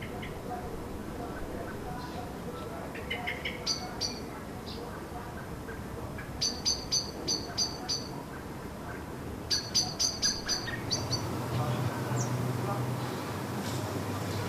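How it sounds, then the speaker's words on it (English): A baby blackbird squeaks from hiding under cover while the parent waits to feed it, giving thin high peeping chirps in short bursts over faint outdoor background, with a low rumble near the end. "The baby is squeaking from somewhere under there."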